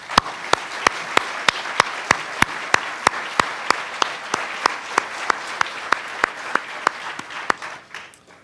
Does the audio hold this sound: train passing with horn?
no